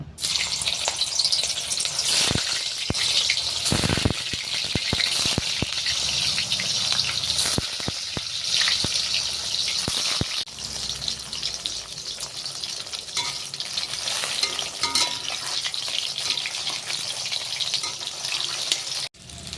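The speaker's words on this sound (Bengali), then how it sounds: "কড়াইতে তেল বসাইছি, তেলটা গরম হয়ে গেছে। আমি এখন মুঠাগুলো ছাইড়া দেব।" Chital fish dumplings (muitha) fry in hot oil in a wok, a loud, continuous, close-up sizzle and crackle with occasional sharp clicks and stirring knocks, and no one speaking.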